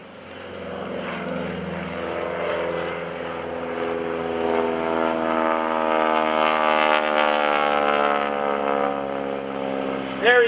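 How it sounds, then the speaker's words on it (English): A 450 horsepower Super Stearman biplane at a lakeside airshow passes with a steady radial-engine drone that swells as it nears, its pitch sliding with Doppler shift, loud and sustained across the whole pass. "Coming in from the left, here's Bill Gordon, the 450 horsepower Super Stearman."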